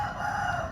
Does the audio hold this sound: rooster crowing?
yes